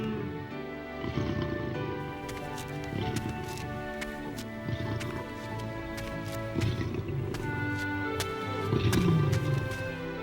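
Lions roar and growl inside the lions' den in an animated Bible story, deep rumbling roars rising and falling repeatedly over a steady background bed, fairly loud and continuous with no speech.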